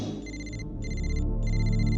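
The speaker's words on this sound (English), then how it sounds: "And my phone rang" A phone ringing in three electronic trill bursts with short gaps between them, fairly loud over a low, rumbling room background, and no one talking.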